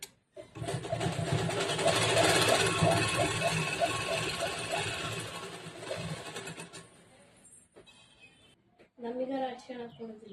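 A sewing machine runs a fast, steady stitching rattle on a princess-cut, boat-neck blouse, then slows and stops, followed by someone speaking nearby.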